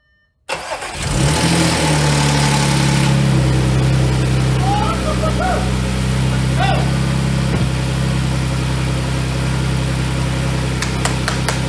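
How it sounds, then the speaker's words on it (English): A fire-damaged Audi S4 engine cranks and catches, then settles into a steady, close idle with a low, even rumble and faint mechanical ticking. "Engine's running! No misfire!"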